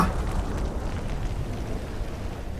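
A huge explosion in the video game God of War 3 Remastered, a loud deep roaring rumble that fills the whole clip and slowly fades a little, with no talking.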